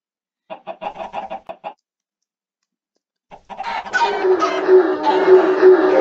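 Minecraft chickens cluck in a quick rapid run, then after a pause a denser burst of in-game noise and clucking fills the rest, loud and close with no voices.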